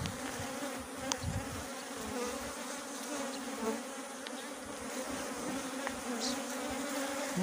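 Honey bees buzz steadily around an open hive as frames are lifted for inspection, a dense continuous drone close by with a few individual bees passing nearer.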